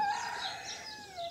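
A rooster among young chicks gives a single short crow, a bright wavering call over about a second, fairly close and alone without talk.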